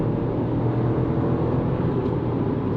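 Chevrolet Tracker Premier 1.2 turbo engine heard from inside the cabin during a simulated overtaking, a steady, loud low drone with broadband road and wind noise filling the whole clip.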